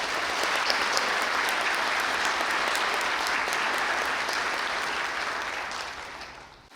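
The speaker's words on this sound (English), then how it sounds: "Please join me in a round of applause for her talents and time." A steady, dense round of audience applause for a musician at an Ivy Day evening event, sustained for several seconds before tapering off near the end.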